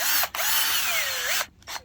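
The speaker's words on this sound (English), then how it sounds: "if you put your drill on high speed, when you do that, it's going to throw this stuff all over the place" A power drill mixes garden soil at slow speed, giving a steady close whirring whine that holds for about a second, cuts out briefly, then starts again.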